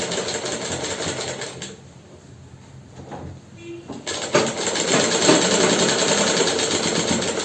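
A sewing machine stitches an underwear gusset in rapid bursts of mechanical clatter. It pauses briefly partway through, then starts again and runs on steadily and close.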